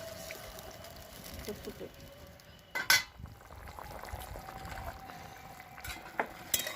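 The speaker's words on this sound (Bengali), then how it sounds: "ঝোলটা ফুটে গেছে আলুগুলোও সিদ্ধ হয়ে গেছে" Thin fish curry broth with potatoes bubbling in a pot, a soft continuous boil with a brief clatter midway, close and low in level.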